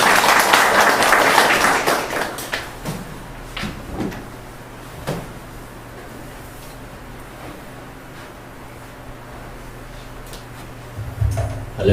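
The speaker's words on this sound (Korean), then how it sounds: "우리 할렐루야 박수로 환영하겠습니다" A church congregation gives a short burst of applause to welcome a retired pastor to the pulpit. The clapping is loud at first, then fades into room noise with a few scattered knocks.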